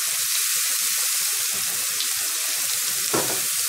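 Minced garlic and dried coriander sizzle steadily in a hot pan, a dense continuous frying hiss close by, with a brief stir or splash toward the end.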